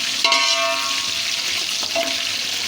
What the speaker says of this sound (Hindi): हम इसको बस 1 से 2 मिनट फ्राई करेंगे घी में सब्ज़ मिर्च को